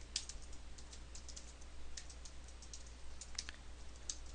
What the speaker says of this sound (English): Again with the typing.